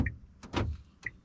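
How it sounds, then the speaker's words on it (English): Remote central locking on a 2011-2014 Kia Rio engages with a short mechanical clunk of the door lock actuators, set between two brief high electronic chirps, heard close and moderately loud with no talking. "So now I can test my remote central locking."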